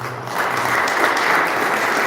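Audience applause at an outdoor St. Joseph's Day celebration in Providence, greeting a singer after his introduction; a steady wash of many hands clapping, moderately loud and sustained throughout, with no voices over it.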